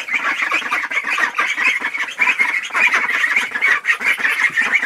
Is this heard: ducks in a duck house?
yes